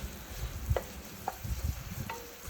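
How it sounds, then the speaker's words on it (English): Onions for risotto softening in a pan with garlic, a low, quiet sizzle broken by a few light clicks and scrapes of a utensil, with no talking. "Right, let's get our onions in. Just going to soften these up nicely."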